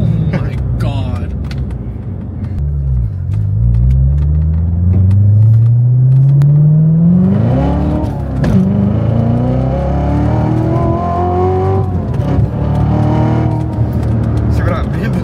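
A Chevrolet Corvette C7 Z06 accelerates hard, its engine note climbing steeply through a gear, briefly dropping at a shift and rising again, loud and close from inside the cabin with people talking over it.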